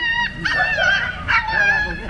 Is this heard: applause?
no